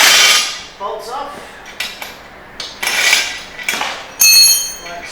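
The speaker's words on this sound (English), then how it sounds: "So we'll take these bolts off" Bolts being taken off a Turbosawmill manual mill guide bracket: sharp metallic clanks and taps of the tools and metal parts, close and loud, with a brief ringing scrape in between.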